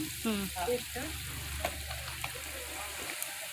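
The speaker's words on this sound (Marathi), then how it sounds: "तेल गरम झालेलं आहे नंतर कांदा टाकलेला आहे पेस्ट टाकते अद्रक आणि कोथिंबीरची पेस्ट" A ginger and coriander paste fries with onion in hot oil over an outdoor wood-fired clay stove on a farm, a steady sizzle up close under a low hum, with someone briefly talking at the start.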